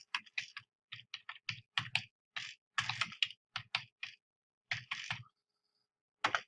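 Bursts of computer keyboard typing while a post is written, quick clusters of close clicking keystrokes separated by brief pauses, heard alone with no voices.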